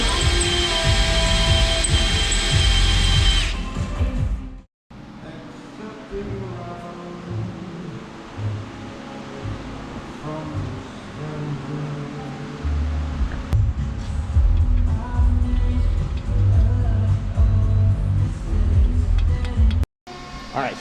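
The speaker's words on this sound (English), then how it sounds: "So let's get to drilling." Reamer drilling out cast pieces while building a 5500 RAM 6X6 truck, a steady grinding machine whir running close and loud for the whole stretch with brief cutoffs, plus low rumbling and varying load.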